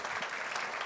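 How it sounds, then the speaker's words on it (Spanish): Audience applause for the company Empower at an international district energy conference, a steady wash of clapping filling the room throughout the brief moment. "Démosle nuevamente un aplauso a la"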